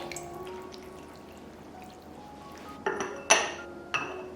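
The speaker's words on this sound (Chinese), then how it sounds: "加入适量开水" Boiling water poured into ceramic stew pots holding pork ribs with black garlic, a soft steady trickle that ends in a few sharp clinks of ladle or lid against the pots.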